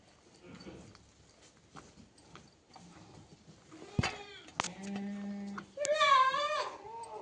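A household cow named Kalyani, offered a festive food offering, gives a single drawn-out wavering call near the end, close and loud, after a few clatters and a short low tone.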